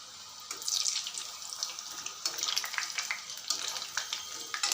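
Kunukku fritters frying in bubbling oil, a steady crackling sizzle with surging bursts of bubbling, close and fairly quiet, heard alone without any talk.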